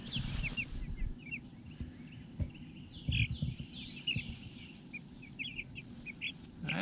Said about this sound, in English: we got the little meat birds out here in their chicken tractor